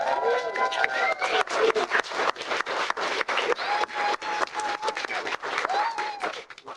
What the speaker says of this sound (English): I want to get a massive cheer for the married couple and the amazing day we've had so far